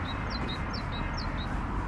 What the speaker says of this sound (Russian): Не знаю, слышно вам или нет, но так птички красиво поют.